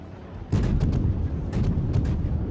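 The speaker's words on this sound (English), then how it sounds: "Put more pepperoni, we need more range, we need better explosions." Naval guns fire in World of Warships, heavy booming blasts and explosions rumbling in quick bursts, with a cluster of sharp reports around the middle and end, loud and close.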